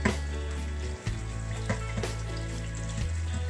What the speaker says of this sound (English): we throw in the shallots to flavor it first. So we just stir fry a bit.